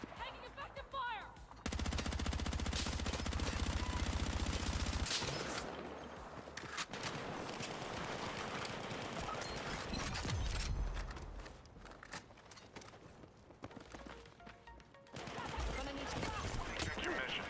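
Incoming gunfire in the Battlefield 6 video game, loud bursts of shots running through the clip over dense battle noise, with players talking over it.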